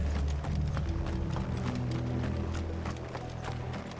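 Horses clip-clop steadily in Final Fantasy XVI, hoofbeats close and continuous over a low rumble of game music and ambience.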